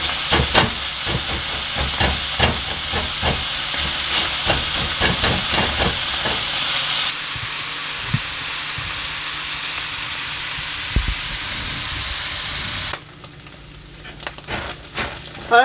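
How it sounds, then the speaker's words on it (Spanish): Chorizo frying in a hot pan with a little oil gives a steady, close sizzle with crackling pops throughout, easing slightly partway and then dropping quieter near the end; no one speaks. "voy a cocinar acá el chorizo unos 10 minutos"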